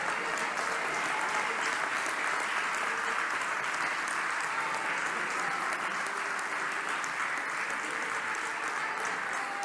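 Steady applause from a church congregation at a worship service, a dense even clatter of many hands sustained throughout without a break.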